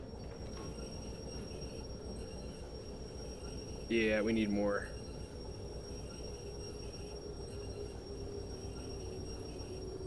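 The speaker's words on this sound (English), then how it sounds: "Let's try the train brake." Train brakes apply on a locomotive and cars in the Derail Valley VR simulator, a brief squealing whine over a constant low rumble of the running train, with someone speaking briefly.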